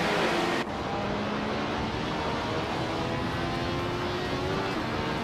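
Racing car engines roar in a video game race that includes a 1970 Pontiac Firebird muscle car, a steady loud drone with sustained engine tones running throughout after a brief louder opening.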